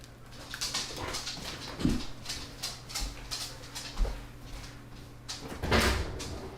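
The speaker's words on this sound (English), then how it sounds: "I'm gonna let the dog out 1 second." A dog is let out through a household door, with door and cupboard-like knocks and a short whimper among steady room noise; a louder thump comes near the end.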